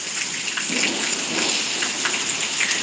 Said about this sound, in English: I jumped back when I heard the lightning thunder.